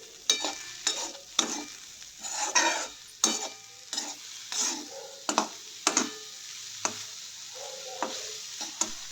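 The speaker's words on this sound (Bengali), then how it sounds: "নারকেলের মধ্যে এবার চিনি মিশিয়ে নেব দিয়ে নাড়াচাড়া করে নেব" Grated coconut and sugar being stirred in a pan, close and clear: a steady run of sharp scraping strokes against the pan in an irregular rhythm, each stroke crisp over a soft sizzling background, with no talking.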